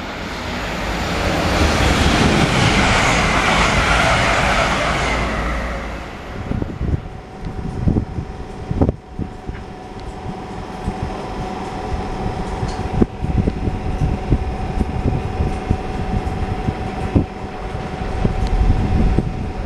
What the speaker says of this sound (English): Another train, they're all going to London King's Cross